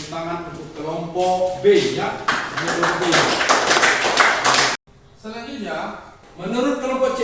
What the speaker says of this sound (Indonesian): Tepuk tangan untuk kelompok B ya.